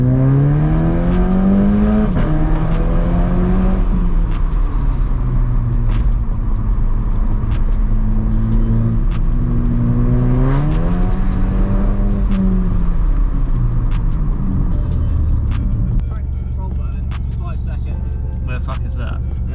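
A 250 bhp VW Polo GTI accelerating hard from a standstill, its engine note climbing loud and steady through several gear changes before settling to a lower rumble near the end; the noise stays constant and close throughout.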